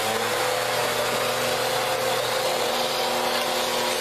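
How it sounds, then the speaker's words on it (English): A vacuum cleaner running steadily close by, cleaning dust out of an HP-8656B RF signal generator, a constant loud whooshing roar with no pauses. "You can watch while I vacuum some."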